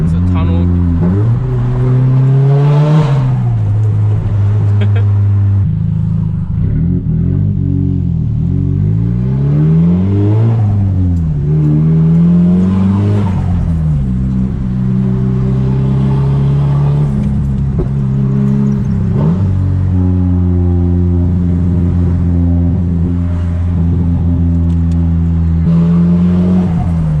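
Straight-piped Nissan S15 cruising through a tunnel at night, loud droning exhaust rising and falling with repeated revs and gear changes, echoing and constant throughout, with voices talking over it.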